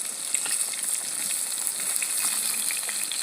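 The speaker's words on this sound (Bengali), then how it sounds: "মাছের তেলে একবারে ডুবে গেছে মাছগুলো" Large glass carp pieces, about 7 kg of fish in total, fry submerged in the oil they have released, giving a steady close sizzle and crackle with a few sharper pops and no voices.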